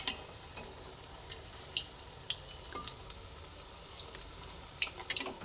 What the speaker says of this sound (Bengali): এক এক করে প্রত্যেকটা কোপ্তাই গোল গোল করে সেপাই করে আমি ভেজে নিচ্ছি